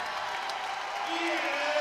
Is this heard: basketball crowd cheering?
yes